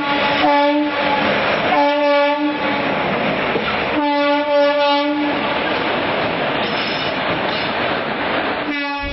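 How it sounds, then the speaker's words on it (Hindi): Rattling and rumbling inside a double-decker passenger train running from Jaipur to Delhi in India, with steady loud wheel and carriage noise, sustained horn-like tones returning in several stretches, and no talk. "हम मौजूद हैं इस समय जयपुर से दिल्ली जाने वाली डबल डेकर ट्रेन में"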